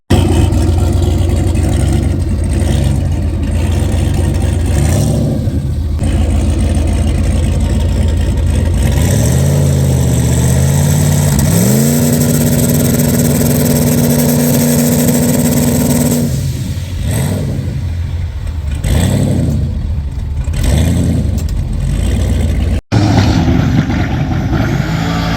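A car's engine with a swapped ECU revs hard against two-step launch control, a loud continuous droning roar with pitch climbing and holding steady, then choppy stuttering bursts near the end, with no talk over it.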